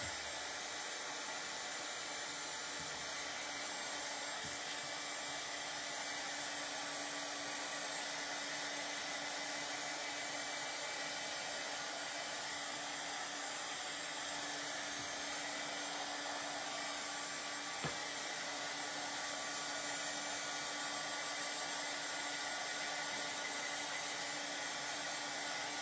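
A hair dryer runs continuously at close range over a decoupage craft project, a steady loud whooshing hum with a constant whine that never pauses throughout.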